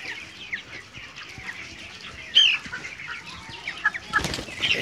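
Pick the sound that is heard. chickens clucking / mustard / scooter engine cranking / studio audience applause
chickens clucking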